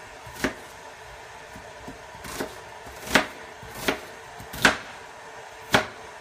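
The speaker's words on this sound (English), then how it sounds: "I usually chop an onion in half, and then I just some nice thick slices" A knife chops an onion into thick slices on a board in a home kitchen: about seven sharp, separate knocks at an uneven, unhurried pace, close and clear in a quiet room.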